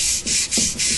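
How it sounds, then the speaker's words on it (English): Loud, close sandpaper rubbing on the copper slip rings of a GM CS144 alternator, four quick back-and-forth strokes, a harsh hiss swelling and dipping with each pass, no voices. "just turn this back and forth, sanding, cleaning up that"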